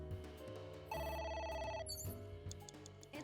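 A telephone in the video game AI: The Somnium Files rings with repeated bright electronic tones over a steady low musical backdrop, the ringing loud and clear with no talking.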